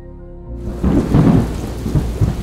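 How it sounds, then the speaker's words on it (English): Heavy rain pours steadily on a night in Nairobi, with thunder rumbling in deep rolling swells beneath the downpour; no voices, just the storm close and loud. "And it rained all night."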